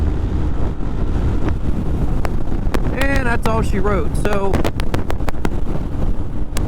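Steady roaring crosswind buffeting the microphone while riding a stock Honda ADV 150 scooter at about 65 mph, with a brief spoken remark partway through.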